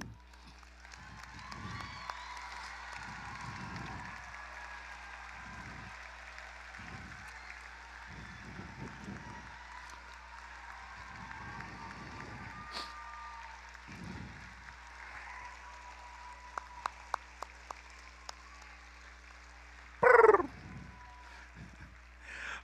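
An audience at a robotics competition awards ceremony gives applause for team mentors, a soft, distant patter of clapping in a large venue that comes in repeated swells, with a few sharp claps and a brief loud burst near the end.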